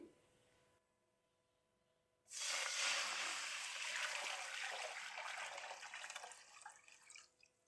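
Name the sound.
pouring chicken stock into a cooking pot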